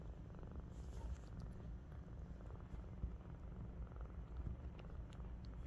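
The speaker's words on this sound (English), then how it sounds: "Were you purring, huh?" A kitten purrs close to the microphone in a steady, continuous low rumble that carries through the whole stretch with no voices over it.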